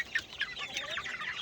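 Faint clucking from a few hens, including Swedish Flower Hens, short irregular calls at a distance with no talking.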